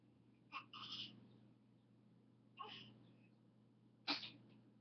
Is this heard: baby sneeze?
yes